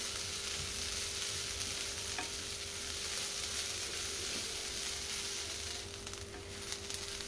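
Sprouts fry in a pan with a dense, steady close sizzle and the soft scrape of stirring throughout. A brief rattle near the end is followed by slightly quieter sizzling.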